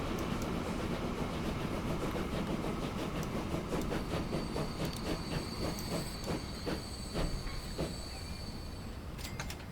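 A heavy freight train in Transport Fever 2 rolls steadily along the track, with continuous rumble, rhythmic clickety-clack of wheels over rail joints and faint high squeals, loud and unbroken for the whole stretch.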